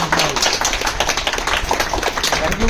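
Teachers at a government higher secondary school in India are cheered with loud, dense clapping from a crowd, steady and close for the whole stretch, with some voices mixed in.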